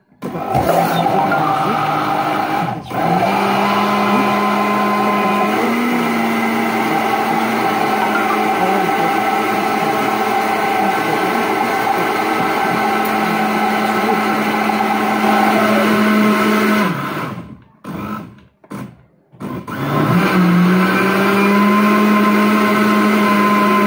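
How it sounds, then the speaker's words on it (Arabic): A Moulinex mixer whirs steadily and loudly while mixing cake batter as flour is added bit by bit. The motor pitch shifts slightly, then it briefly stops and starts up again near the end. "ضفت الدقيق كيف ما كتشوفوا كتكون المونيكس خدامه"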